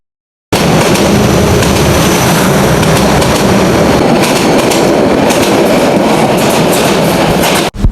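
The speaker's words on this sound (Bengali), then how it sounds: "এই ট্রেনটা হচ্ছে চট্টগ্রাম থেকে ঢাকা যাইতেছিল তো আমি একটু ভিডিও করলাম" A Chittagong-to-Dhaka train in Bangladesh roars past very close and loud, its wheels rattling continuously for several seconds before the noise suddenly stops.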